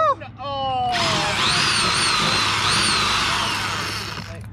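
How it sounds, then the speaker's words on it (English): A power drill bores into a ZL1 Addons wickerbill spoiler on a 2014 S197 Mustang, a steady high whine running for several seconds after brief speech, close and loud. "Like don't drill it at an angle."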